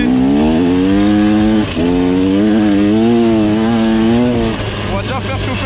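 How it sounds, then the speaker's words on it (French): An enduro motorcycle engine warms up just after starting, idling loud and steady with harmonic drone and slight revving swells throughout. "On va déjà faire chauffer la moto un petit peu parce que je viens de démarrer"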